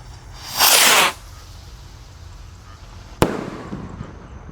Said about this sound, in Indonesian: di sini ada roket Roman Candle ya. Kita lihat reaksinya.